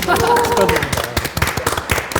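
Brief applause breaks out at a studio panel discussion, sharp scattered claps following laughter and overlapping voices.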